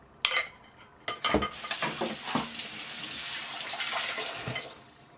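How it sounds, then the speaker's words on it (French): Apple cake batter stirred in a baking dish by hand: a few sharp knocks at first, then a steady scraping, swishing spoon sound that continues for several seconds, close and fairly quiet. "On remue un petit peu pour tasser."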